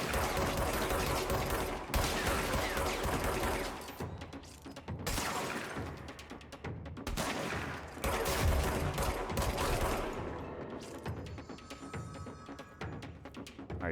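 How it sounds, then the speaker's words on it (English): Heavy automatic gunfire from a firefight in the video game Control rattles in long, loud bursts that cut off sharply between volleys, with clattering impacts and mechanical clanks in the gaps. "who's this guy shooting at me?"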